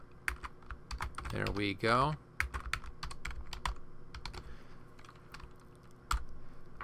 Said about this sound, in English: Now I'll just type in my text.